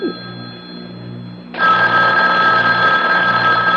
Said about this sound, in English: Mrs. Greenway, aren't you going to answer it? Answer? The phone